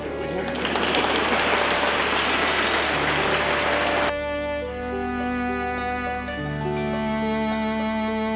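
Guests at a church wedding clapping in a dense burst of applause that stops abruptly partway through, after which sustained organ-like tones carry on alone.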